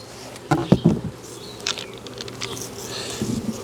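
Bees hum around a hive cutout, a faint insect drone behind a cluster of sharp knocks and handling clicks early on, with scattered taps later.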